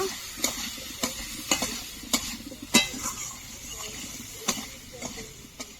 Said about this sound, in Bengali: স্বাদ মতো লবণ দিয়ে দেব। এক চামচ হলুদ গুঁড়ো, ভালো করে নেড়ে নেব।